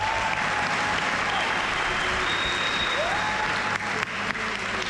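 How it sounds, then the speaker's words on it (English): Steady applause from a ceremony audience honoring student pilots who completed their first solo flight and landing, a dense continuous patter of many hands with no break. "you may give them a round of applause"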